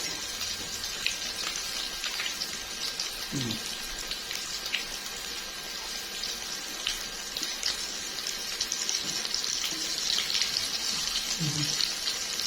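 Flour-coated mullet roe fries in oil with a continuous soft, crackling hiss that stays fairly even and close throughout.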